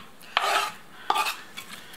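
Pieces of pollock go into a small frying pan in three short bursts of scraping and light sizzling, close by with quiet pauses between them and no talking.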